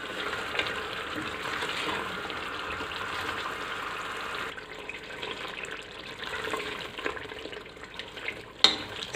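Mutton pieces sauté in oil for a ridge gourd curry, a constant close sizzle that eases midway, with light stirring scrapes and a sharp clack near the end.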